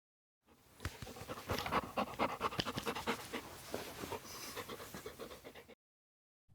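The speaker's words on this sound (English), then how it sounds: "Max is a dog." A dog pants rapidly and steadily for about five seconds, close and fairly quiet, with no voices.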